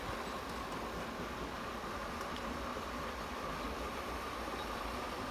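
An O scale model train runs steadily on a layout, giving a continuous even rumble and hiss with faint ticking, close and alone without talk.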